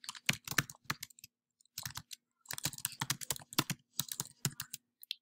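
Computer keyboard typing in bursts of quick key clicks separated by short pauses while a for loop is written, close and fairly quiet, with no speech.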